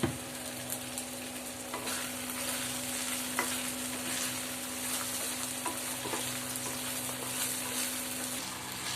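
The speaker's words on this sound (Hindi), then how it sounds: "तो अब हम इसको अच्छी तरह से मिक्स कर देंगे।" Rava idli ingredients with fried peanuts and ketchup are stirred together in a hot pan, a continuous sizzle with scraping strokes and occasional clinks of the utensil, close and alone.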